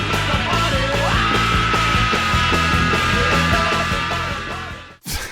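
A singer lets out a long, sustained rock scream over the loud, driving band on a recording, cutting off abruptly near the end.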